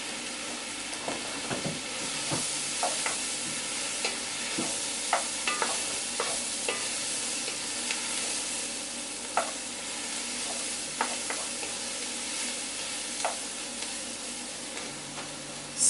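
About 300 grams of sliced mushrooms fry over raised heat in a pan, a soft continuous sizzle with scattered clicks and scrapes of stirring, fairly quiet and close, no speech.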